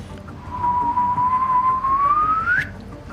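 A single clear whistled tone, a voice imitating a gravitational wave chirp, holding steady then sweeping upward in pitch and ending in a quick rise, with no talking.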